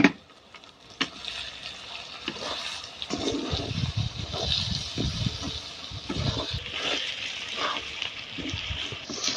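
Spices being stirred into onions frying in a pan, a steady close sizzle with scraping and clinking of a spoon against the pan throughout, no voices.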